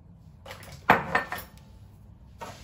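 A spoon stirs food in a bowl, giving a few close clinks and scrapes of metal on dishware, loudest near the start, then quieter movement and one more brief scrape at the end.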